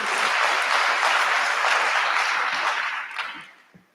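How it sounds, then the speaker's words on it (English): A crowd at a Kabarak KIPPRA 2022 mentorship programme gathering bursts into dense, steady applause that holds for about three seconds, then thins into a few scattered claps and fades out. "A round of applause,"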